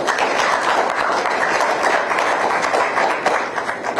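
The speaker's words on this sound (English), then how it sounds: "Can we give a round of applause to all the chairmen?" Audience at a Lagos political dialogue event applauding the chairmen, a dense, sustained wash of clapping from many hands with no break.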